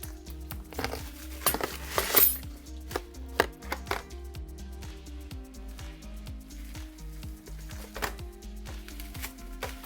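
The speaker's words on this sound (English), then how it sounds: "I'm going to cut it into 4 sections." A knife chops through frozen food in a steady series of sharp, close thuds on a board, with faint clinks between cuts.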